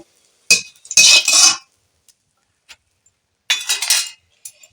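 Eggplant and bitter gourd are sautéed for shukto in a pan, heard as a few brief bursts of scraping and clinking from a spatula against the metal, with quiet gaps between.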